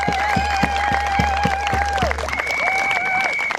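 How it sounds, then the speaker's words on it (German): A crowd at a peace-movement vigil in Hannover applauds steadily throughout, with rhythmic clapping under sustained whistle-like tones. "Bitte einen Applaus für die Friedensbewegung in Kalka."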